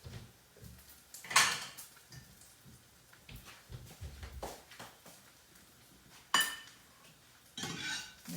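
Plates and a pan clink and clatter in a kitchen while crispy bacon is lifted out, several sharp bright knocks scattered among softer scraping and handling noises, close and fairly quiet.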